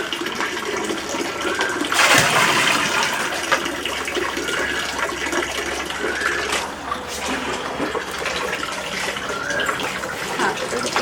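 Water running from a pipe during a home visit in Chandigarh, a steady broadband gush that continues throughout, louder at the start and with voices talking faintly in the background.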